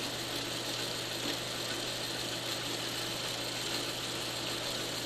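A generator runs steadily in a machining shop where squaring blocks are being tapped, giving a constant, even drone with a mechanical ratcheting texture that holds at the same loudness throughout.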